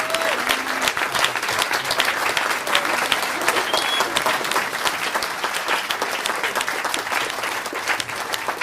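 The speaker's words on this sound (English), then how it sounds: "Big round of applause" A big round of applause fills a hall at a UK annual family gathering, dense and sustained from a large audience, steady in level for several seconds with faint voices mixed in.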